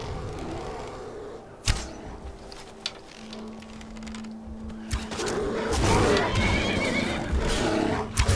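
A horse neighs in the video game Skyrim, a loud whinny among combat sounds, sharp impacts and clatter, with a steady tone and rising noise later in the clip.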